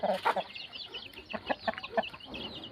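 Chickens clucking in a morning countryside setting by a vegetable garden, a series of short close clucks and calls in irregular bursts over a quiet background.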